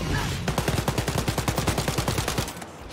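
Rapid automatic gunfire in Wolfenstein: Youngblood, a loud, fast, evenly spaced burst of shots that runs for almost three seconds and then cuts off abruptly.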